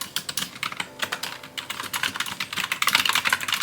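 Fingers type quickly on a moderately clacky computer keyboard, producing a close, rapid run of crisp, even key clicks with no voices.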